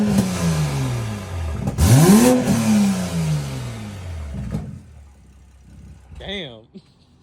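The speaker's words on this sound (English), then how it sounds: "Rev it." A Toyota Supra mk5 engine with an open dump and an aftermarket CTS turbo downpipe revs hard, its loud exhaust note sweeping up and back down, followed by a sharp turbo pop and flutter near the end.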